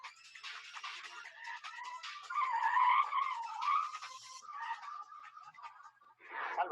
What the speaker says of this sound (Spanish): Salva está pasando detrás de mí con un vehículo con los amortiguadores totalmente gastados